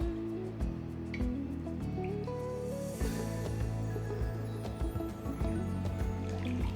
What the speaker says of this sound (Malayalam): മുക്കാൽ കപ്പ് വെള്ളം കൂടെ ചേർത്തു.